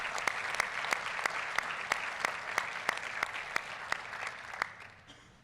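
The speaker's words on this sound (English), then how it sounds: "so please give them a round of applause" Audience at a golf association's annual meeting gives a round of applause, dense steady clapping from a room of people with a few distinct near claps, tapering off at the end.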